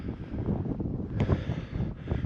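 Steady, blustery wind roars and buffets a microphone on Striding Edge, the exposed mountain ridge leading to Helvellyn, with gusts swelling and easing throughout and no talking.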